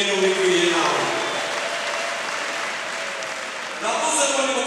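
A church congregation claps together during a sermon, a dense wash of applause that stays steady and swells again near the end, with a voice speaking over it.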